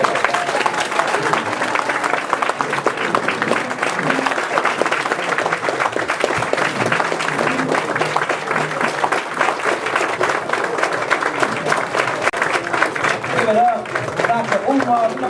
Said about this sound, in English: Dr. Umar, big round of applause